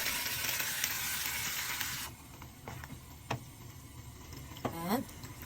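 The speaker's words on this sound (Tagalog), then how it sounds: "ilagay na natin ang ating munggo. Ibigisa na natin ang ating munggo." Mung beans (munggo) sautéed in a pan, a soft steady sizzle for the first two seconds that then drops lower, with a few faint clinks and stirring noises.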